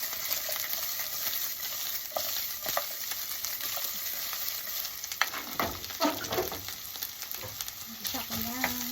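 Garlic and onion sizzle in a hot pan for a Filipino pork and string bean adobo, a continuous bright frying hiss with stirring scrapes growing busier toward the end, no talking.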